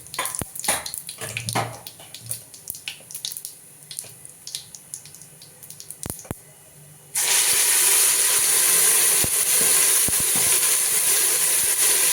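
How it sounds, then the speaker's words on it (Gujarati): Soft kitchen clatter and small knocks, then a sudden loud, steady rush of water pouring into a pressure cooker holding mixed lentils that continues to the end. "કુકરમાં થોડું પાણી નાખી"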